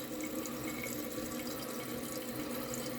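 Water rushes steadily into a toilet tank as it refills during a leaking-toilet repair, a constant close hiss and splash with no breaks and no talking.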